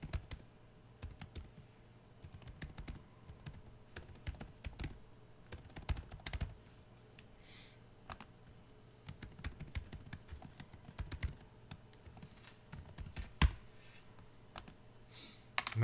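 Keys clatter on a computer keyboard as an email address is typed, irregular bursts of close, quiet clicks separated by short pauses, with a sharper tap near the end.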